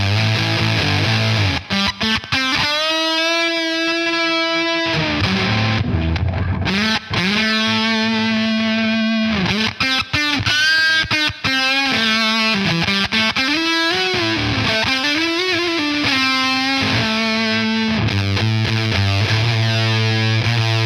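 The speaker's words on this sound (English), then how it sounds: "it's gating slightly, and it's still not an insane fuzz" Electric guitar played through a Jam Pedals Eureka fuzz pedal with gain fully up, fed by a Jaguar guitar, giving a thick distorted tone with sustained chords and riffs that cut off slightly as the gate closes between phrases, loud and alone.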